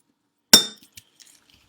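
Peerless Rye whiskey in a Peerless glass: one sharp, close glass clink rings briefly and then decays, followed by a few faint small taps in otherwise quiet surroundings.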